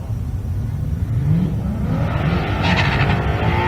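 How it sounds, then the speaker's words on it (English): A stick-shift Cadillac CTS-V and a stick-shift S197 Mustang launch side by side at a drag strip race event in Pueblo, Colorado, engines revving up in a rising, roaring surge heard from a distance. "How about a stick shift CTSV in the right lane? Going against a stick shift S197 Mustang in the left lane."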